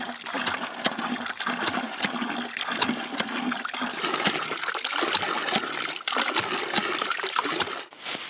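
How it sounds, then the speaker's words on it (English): Cold water from a hand-pumped well splashes and gushes steadily into a bucket, with faint repeated knocks from pumping running through the flow. "We'll just have to keep pumping it until it clears up."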